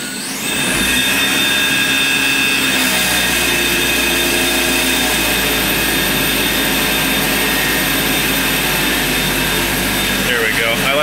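A Murray riding mower converted to electric drive starts up with a thump, then its motor runs in a loud steady whine and hum that continues unchanged throughout.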